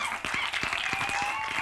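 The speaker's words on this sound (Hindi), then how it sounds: "फिर से एक बार जोरदार तालियां हो जाए अमीना के लिए।" A talent-show audience at Arunachal Idol claps for a contestant, with a brief burst of fairly faint, rhythmic hand claps over steady background hall noise.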